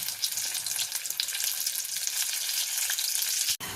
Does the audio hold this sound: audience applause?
no